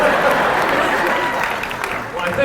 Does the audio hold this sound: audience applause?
yes